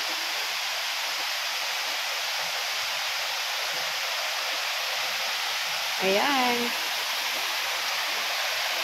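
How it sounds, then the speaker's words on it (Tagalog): Encanto Falls in Libmanan, Camarines Sur, Bicol, pours with a steady, dense roar of rushing water that fills the whole stretch, with a brief spoken word rising over it near the end. "Dito po ito sa Encanto Falls sa may Bicol."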